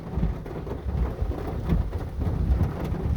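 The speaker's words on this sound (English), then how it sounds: "the rain started to get bad" Heavy rain pours during a summer rainstorm in WaKeeney, Kansas, a dense, loud, continuous roar with low rumbling thunder underneath and no voices.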